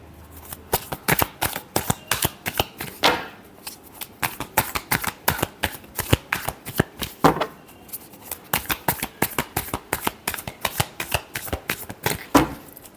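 Tarot cards shuffled by hand close up, a long run of quick, crisp slaps and flicks in an uneven rhythm, with a few short pauses between bursts.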